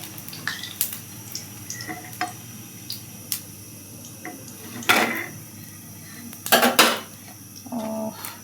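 Fried eggplant slices are lifted out of a frying pan with a metal utensil, making scattered close clinks and scrapes against the pan over a faint sizzle, with a louder clattering burst near the end.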